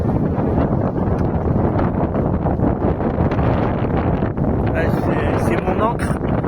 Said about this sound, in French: Mais là, il y a vraiment du vent